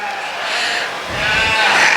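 At a Dorper sheep show, sheep bleat close by, with one wavering bleat rising over a busy background of crowd noise in an indoor show ring.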